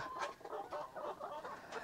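Several chickens, Dominant CZ F1, Rhode Island Red and native breeds, clucking softly nearby on a farm in Cebu, short bursts of throaty calls overlapping at a quiet level.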